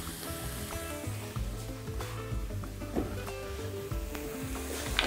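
Ingredients sizzle and crackle in a frying pan, a soft steady hiss broken by faint clinks of stirring, fairly quiet and close.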